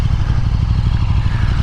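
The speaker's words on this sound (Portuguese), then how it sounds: "no modo esporte o freio motor é mais intenso" A KTM 1290 Super Duke R motorcycle engine braking in sport mode gives a steady, close, low rumbling drone with a faint crackling texture and no talk.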